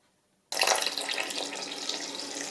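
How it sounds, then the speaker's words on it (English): Water runs from a tap into a sink holding a piece of fabric, starting abruptly after a short silence as a loud, steady, close rushing splash that continues to the end. "Just running the water into this sink."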